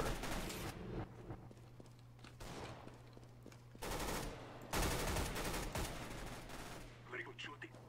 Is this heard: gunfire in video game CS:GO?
yes